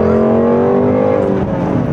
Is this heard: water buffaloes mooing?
no